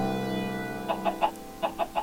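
Chickens on a video game farm, a short series of soft clucks in two quick groups of three over a faint steady background tone.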